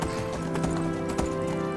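A wild horse's hooves clip-clop in Skyrim, a steady rhythmic trotting patter set against a dense ambient game background at fairly low volume, with no one speaking.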